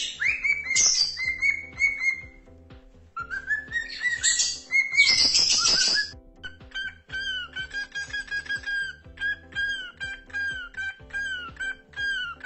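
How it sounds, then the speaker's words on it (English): A cockatiel chirps and whistles in bright, rising and falling calls, loud and close, with quick chirp bursts early and a repeated whistled phrase later, over a soft background hum. "Listen to your cockatiel."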